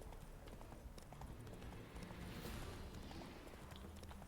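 Roach, the horse in the video game The Witcher 3: Wild Hunt, gallops with rapid rhythmic hoofbeats under a continuous windy rush, steady and moderately close.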